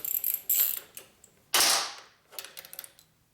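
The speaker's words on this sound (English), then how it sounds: "Pull out our bolt." A bolt being pulled from a 1983 Harley-Davidson FXRT Shovelhead motorcycle during brake repair, heard as a few close, faint metallic clicks and scrapes with short pauses between them.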